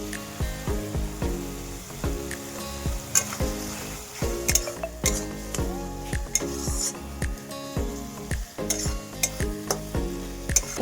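Ground spice masala fries in a pan and is stirred, a close sizzle broken by rhythmic scraping and clinking of a utensil against the pot, steady and busy throughout.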